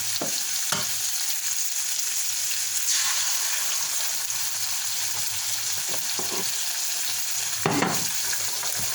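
Eggs frying in a pan for a Spam, eggs and vegetables breakfast, a constant close crackling sizzle with occasional soft scrapes and clinks of a utensil, steady and without talk.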